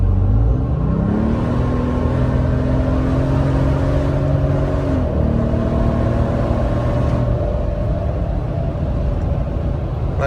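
A Toyota Tundra pickup accelerates hard toward 60 mph at night, its engine drone rising steadily in pitch through a gear change, loud and close from inside the cab with constant road roar.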